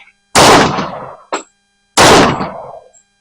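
Two loud, close shots from a 1911 pistol firing .45 ACP rounds ring out about a second and a half apart, each a sharp crack with a decaying tail, and a brief metallic clack falls between them.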